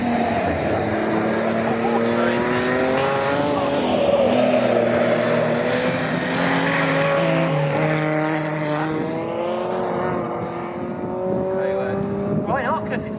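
Historic racing cars, a Jaguar E-Type and a Turner, race at Snetterton in a pre-1963 event, their engines roaring steadily with rising and falling pitch as they pass, under race commentary.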